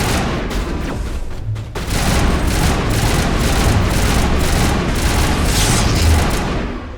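Sustained gunfire in a Mass Effect firefight, dense overlapping shots and booms rolling continuously for several seconds at high loudness with no talk over it.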